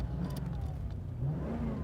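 A car engine hums and revs steadily, a mid-pitched rumble that rises slightly, heard up close without any talk.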